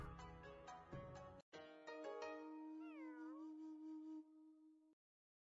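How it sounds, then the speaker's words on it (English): Stock cartoon cat meow from the Sushi Cat flash game, a few clear drawn-out mews with a bent, pitch-sliding cry near the end, clean and alone over near silence. "I guess everyone ends up using the same cat sound effects."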